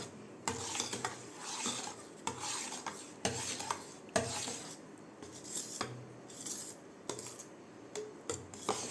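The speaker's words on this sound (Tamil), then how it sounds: "இப்போ பார்த்திங்கன்னா இதையும் நல்லா மிக்ஸ் பண்ணி விட்டுருங்க, நல்லா கலந்துடணும்." Colostrum milk pudding mixture with sugar stirred in a vessel: soft, rhythmic scraping and rubbing strokes repeat every second or so, fairly quiet and close, with faint clinks of a utensil and no speech.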